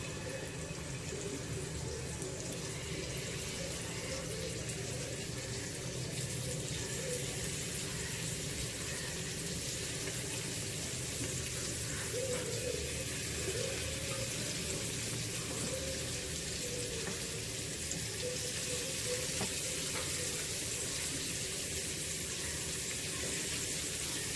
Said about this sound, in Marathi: तवा तापलेला आहे आता त्यामध्ये आपण ही मांदेली घालूया